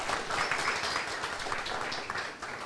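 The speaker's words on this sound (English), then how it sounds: "I think that deserves a round of applause" A community gathering in Dayton breaks into audience applause, a steady dense wash of clapping that holds at an even level from start to finish with no voices over it.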